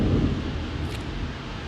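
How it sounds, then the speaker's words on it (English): Thunder rumbles during a heavy thunderstorm heard from indoors, a deep, loud rolling rumble that swells at the start and then settles into a steady low roar. "we have a bad thunderstorm today"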